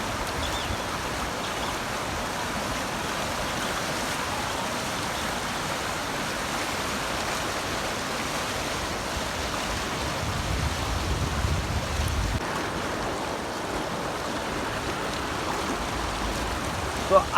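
Fast, heavy floodwater rushes past after torrential rain in Kolikhada, Porbandar, a steady broadband roar that holds unbroken throughout with a slight swell midway, no voices over it.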